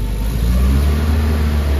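A car engine revs steadily with a low, mid-pitched drone, close and continuous, while the driver works the clutch and handbrake; no voices.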